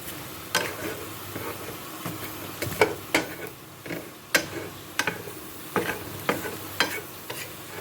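Spiced fried liver pieces with red chilli and roasted ground cumin being stirred in a pan, with a steady scraping clatter of spatula strokes roughly every half-second over a low background sizzle, close and moderately loud.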